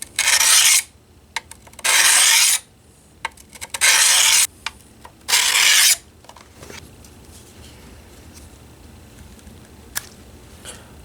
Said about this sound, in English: I'm going to use a medium grit diamond stone, just see if we can very quickly and easily put that honed edge back on there